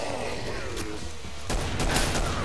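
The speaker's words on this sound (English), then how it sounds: "What a beautiful explosion." A loud explosion from the co-op zombie shooter Killing Floor, in which pipe bombs are in use. A sharp blast is heard over dense, continuous gunfire and combat noise.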